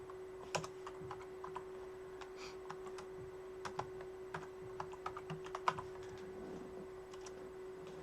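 Keys clatter on a computer keyboard while commands are entered during a Hyperledger Fabric blockchain setup, an uneven run of close, crisp clicks over a steady electrical hum with no talking.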